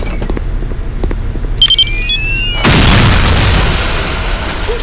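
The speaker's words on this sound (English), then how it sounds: "take cover and press your fire key to detonate the bomb" In the video game Counter-Strike: Condition Zero Deleted Scenes, a planted radio-controlled bomb is detonated: a few electronic beeps and tones come first, then a sudden loud, close blast that settles into a sustained roaring rumble.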